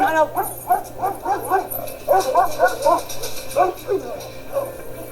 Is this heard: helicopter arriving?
no